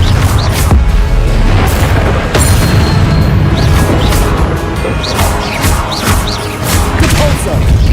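Loud, continuous booming and crashing from Confringo fire spell explosions in the Hogwarts Legacy video game, heavy thuds and blasts piling up over dense combat noise, with voices mixed in.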